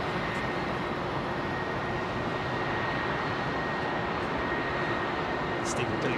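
Rolls-Royce RB211 engines on an ex-KLM Boeing 747 Combi freighter at Heathrow give a steady, loud broadband roar with a faint whine, holding constant throughout.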